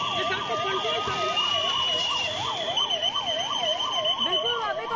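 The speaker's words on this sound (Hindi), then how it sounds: "यहाँ पर सीटियां बज रही है, सायरन बज रहे हैं" Sirens and whistles during a civil defence mock drill in Madhya Pradesh and Chhattisgarh, a loud wailing siren rising and falling in quick regular cycles alongside a steady high whistle tone, with background crowd noise.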